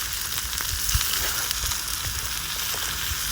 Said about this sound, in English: Some very careful stirring going on.